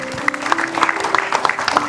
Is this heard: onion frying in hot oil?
no